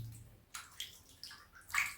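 Raw chicken being washed with water in a bowl, giving soft, quiet splashes and sloshes in several short bursts close by.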